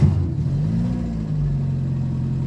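A Renault 10 with carburettor problems and a fitted air filter catches and settles into a running idle, a close, steady low engine rumble after a brief start.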